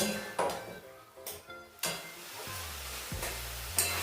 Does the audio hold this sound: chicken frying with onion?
yes